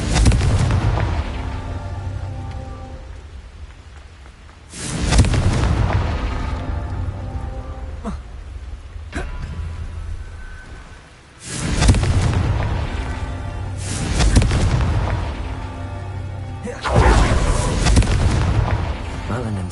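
Confringo spell blasts in Hogwarts Legacy, several loud booming explosions with long rumbling decays, repeated at intervals of a few seconds amid game ambience and occasional voices.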